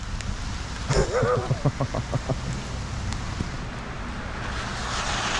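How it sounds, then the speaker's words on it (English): Steady rain falls outdoors after a hurricane, a constant hiss close to the microphone, with a brief burst of a voice and a few sharp knocks early on. "Stand around in the pissing rain."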